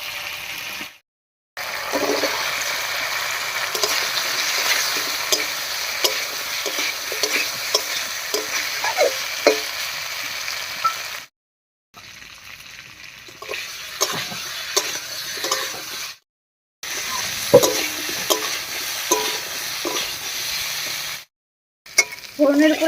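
Boiled elephant foot yam frying in a pan with spices, giving a loud continuous sizzle broken by stirring clatter, with several abrupt silent breaks.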